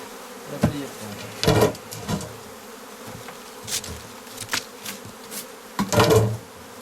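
Honeybees buzz around a honey frame during a harvest, a steady low insect drone broken by several louder close passes as bees fly right by, with no voices.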